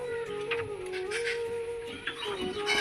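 Pigeon cooing among a loft of Giribaz and other pigeons, a steady warbling call running through the whole span with soft overlapping coos and some background chatter of birds.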